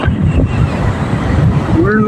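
Sea waves wash in over a steady roar of wind buffeting the microphone, a continuous loud surge of water without clear breaks; a faint voice murmurs near the end.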